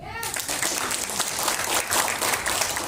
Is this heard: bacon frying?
no